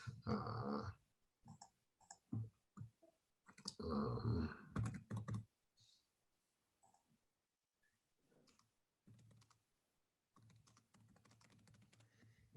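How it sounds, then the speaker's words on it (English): Bursts of clicking keystrokes on a computer keyboard, close and fairly loud, separated by pauses of near silence. "So when you're typing things, if you type @"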